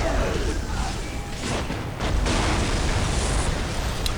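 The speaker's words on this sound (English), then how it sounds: "Don't go punching the thing that when it dies and it explodes, it does like explosion damage to you." Loud explosions in the Dawn of War strategy game, with booming bursts layered over a dense, continuous battle din.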